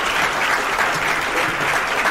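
Sustained audience applause welcoming a guest lecturer at Fordham for a distinguished lecture on disability, a dense, steady clapping from the whole room with no voices over it.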